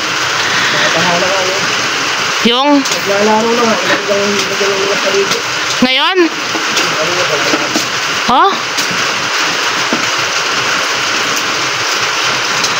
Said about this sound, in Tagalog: Simula kagabi magdamag umuulan.